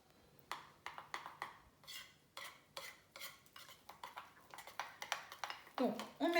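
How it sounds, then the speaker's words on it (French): A spoon stirs a homemade cocoa spread mixture in a bowl, scraping and clinking in a quick repeated rhythm close by, with soft talk in the background. "Donc, on mélange le tout."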